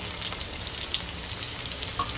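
Chopped garlic and cumin seeds frying in hot oil give a steady, close hiss and sizzle that holds evenly throughout, with no talking.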